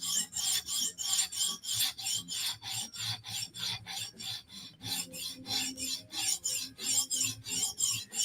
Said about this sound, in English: I like the sound that the blade is making with no handle